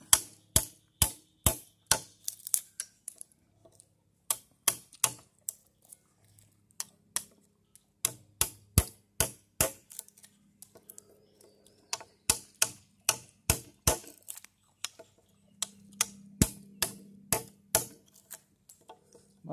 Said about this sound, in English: Go ahead and chisel this out.